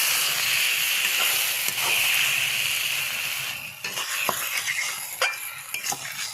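Crab and spinach sautéing in mustard oil, a steady loud sizzle with scraping stir strokes that thin into sharper scattered clicks and crackles toward the end.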